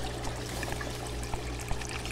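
Water draining through a homemade aquaponics bell siphon in a grow bed, a steady close trickling and gurgling flow with a few small splashes, continuous and alone.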